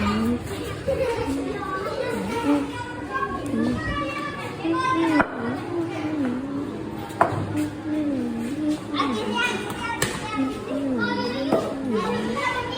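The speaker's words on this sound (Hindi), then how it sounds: "पीछे आपको बच्चों का शोर आ रहा होगा, वो इग्नोर करें" Several children shout and chatter noisily during a backyard cricket match, their voices rising and falling continuously throughout at moderate distance, with adult talk mixed in.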